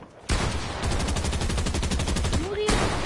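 Rapid crackling bursts of fireworks going off in a Fortnite match, dense and continuous with a rising whistle near the end, loud and close with game audio.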